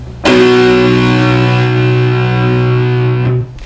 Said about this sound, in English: Now obviously I've got the distortion on my amp